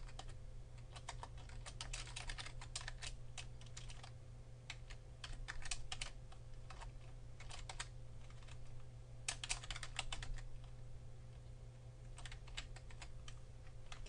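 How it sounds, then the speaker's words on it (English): Quiet computer-keyboard typing of HTML: bursts of rapid key clicks broken by short pauses, over a steady low electrical hum. "you typed up your web page just like we're doing right here"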